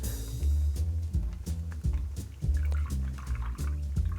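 A New York Sour cocktail is poured through a filter to clarify it, liquid pouring and dripping in short, irregular splashes and trickles, close and fairly quiet, with no talking.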